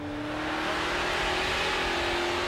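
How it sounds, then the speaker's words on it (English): High-revving V8-style burnout car engine at a Summernats burnout competition, a loud, constant screaming drone held at the top of the rev range with a crowd-filled outdoor roar behind it. "this is that engine go up there in the rev range"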